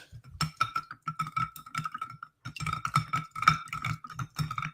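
Ice and a spoon clink against a glass as a drink is stirred over ice, a steady run of bright, close taps with a short pause midway.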